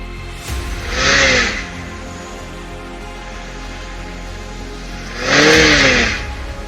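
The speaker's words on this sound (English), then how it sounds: "you can hear the engine revving up" A car pulling out of a driveway into the road, its engine revving up loudly in two distinct surges a few seconds apart over a low steady idle.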